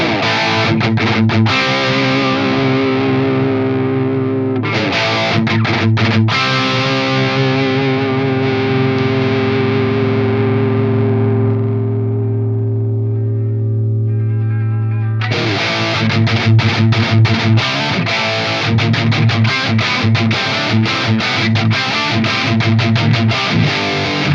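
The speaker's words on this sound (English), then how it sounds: "if you turn the master down and you really push the input drive, you kind of get a 5150 sort of thing out of it" A distorted electric guitar played through an Axe-Fx III Marshall amp model with the master turned down and the input drive pushed hard, giving loud chugging riffs, sustained ringing chords that fade away, and then more chugging.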